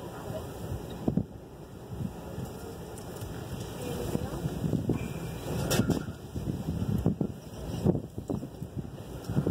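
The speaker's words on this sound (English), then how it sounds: "So windy." Gusty wind buffets the microphone outdoors, rumbling low and steady with occasional stronger bursts, while voices talk faintly in the background.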